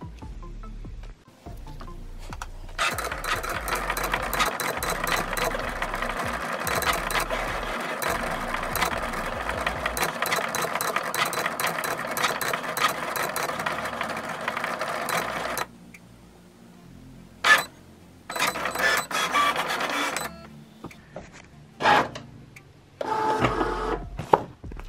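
A Cricut cutting machine cuts a Self Love Club tag for custom sweatshirts, giving a steady close mechanical whir and buzzing motor for about twelve seconds, then quieter stretches broken by scattered clicks and short bursts of movement.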